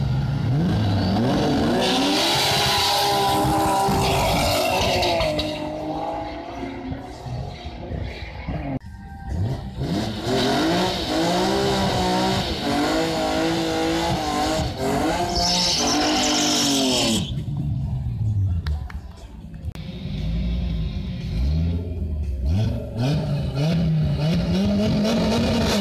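A drag racing car at the EDRA Nationals 2015 event roars loudly, with engine pitch rising and falling through revs and acceleration in a continuous, harsh, close howl.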